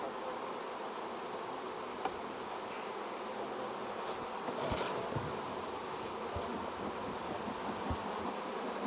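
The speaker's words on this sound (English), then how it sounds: "this is the time of the day that between noon and 5 o'clock is when you'll see most of the bees out for mating" Honeybees fly around their hive in the afternoon, a steady, close, dense buzzing that carries on evenly throughout, with a few faint rustles underneath.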